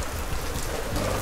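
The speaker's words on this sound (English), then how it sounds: "Oh dear, do I detect a drop of drizzle?" Light cartoon-style drizzle patters steadily in a short, soft burst of rain with no voices.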